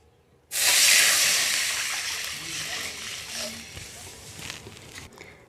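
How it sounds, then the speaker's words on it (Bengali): Water poured into a hot wok of fried whole cumin and spices bursts into a loud hiss and steamy sizzle that slowly fades over several seconds, with no talking. "এখন কড়াই দিয়ে দিচ্ছি জল।"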